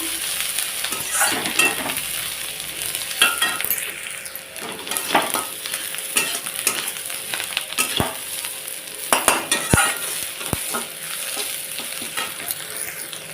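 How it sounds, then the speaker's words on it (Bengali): Sliced onions fry in a pan with nigella seeds, a continuous close sizzle broken by repeated scraping stirs and a few sharp utensil clinks against the pan, with no voices. "কালো জিরাটা দিয়ে একটু ভালোভাবে নাড়াচাড়া করে নেবো"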